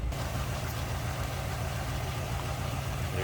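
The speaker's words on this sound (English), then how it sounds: "There's that 331 cubic inch engine. Listen how smooth that is." A 1949 Cadillac Series 61 sedan's 331 cubic inch V8 idles with a smooth, steady low rumble, fairly quiet and unchanging, with no voices over it.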